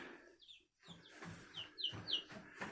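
Chickens and young chicks cluck and peep softly inside a barn, with several short overlapping calls close by and no one talking.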